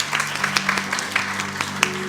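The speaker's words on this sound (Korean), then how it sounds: "우리 박수로 축복하겠습니다" Church congregation at a Korean Parents' Day worship service applauding elderly members, moderate scattered clapping over a steady low hum, brief and without voices.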